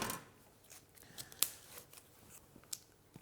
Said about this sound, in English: So I'm going to cut around the pastry that we've egg washed.